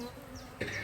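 Honey bees buzz around an open hive during an inspection, a close, steady drone that swells briefly near the end.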